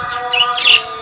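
Small pet lovebirds in a cage give a few bright chirps and tweets, rising in two brief bursts over a steady background hum.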